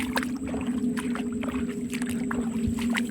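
A boat moves through floodwater over a flooded paddy field, with a steady low engine-like drone and faint watery splashes and knocks running through the whole stretch.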